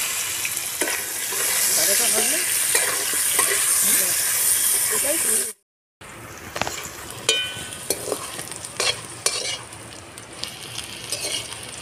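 Vegetables for shukto fry in hot oil with a loud, steady hiss, broken by a brief pause, then sizzling again with utensil clinks and some talking.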